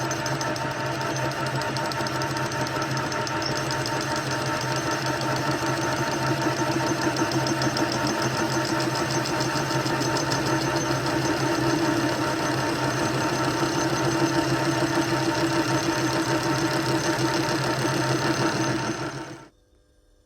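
Machine tool running on automatic feed in gear across a workpiece face, a loud, steady mechanical drone with faint rhythmic knocking that continues unbroken and then cuts off abruptly near the end.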